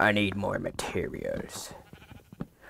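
Sheep bleating in Minecraft, a few short wavering bleats at the start, with someone talking over and after them.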